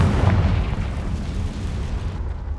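A Confringo blasting curse going off in the video game Hogwarts Legacy, a single loud, deep boom with a rumbling blast that fades slowly over a couple of seconds.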